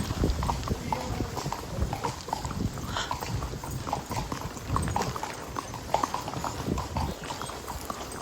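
Horses' hooves clip-clop steadily and close by on a morning horseback ride through Matheran in wind and rain, with a continuous rhythm of irregular hoof strikes over rustling background noise.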